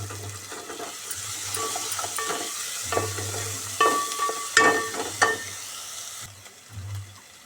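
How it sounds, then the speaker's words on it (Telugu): Ginger frying in a pan, a low continuous sizzle punctuated by repeated scraping stirs and a few sharp metallic clinks of the spoon, fading toward the end. "తర్వాత అల్లం, కొంచెం ఫ్రై అవ్వాలి"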